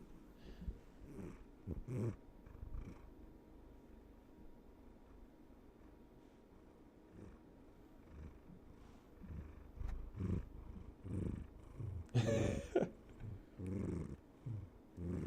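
A cat purrs close to the mic in a low, rumbling, rhythmic drone, with occasional louder breathy bursts and rustling.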